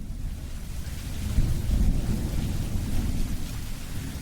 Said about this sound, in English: Torrential rain, treacherous conditions